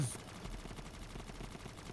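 Rapid automatic gunfire with infinite bullets in a video game, firing through walls: a fast, even stream of shots rattles continuously, faint and distant-sounding throughout.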